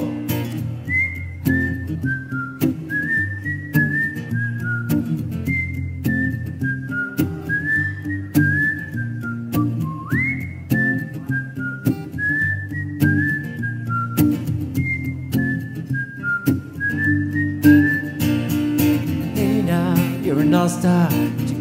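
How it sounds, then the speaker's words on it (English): A bright whistled melody carries the lead over a steady band backing in a cover song, the tune rising and falling in short sliding phrases throughout. "Whistle solo."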